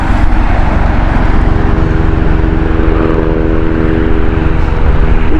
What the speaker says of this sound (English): Got a helicopter just going above us actually.